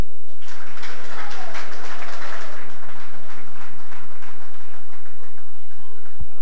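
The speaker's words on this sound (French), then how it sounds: "sous vos applaudissements" A crowd applauds loudly with dense, sustained clapping that gradually thins toward the end.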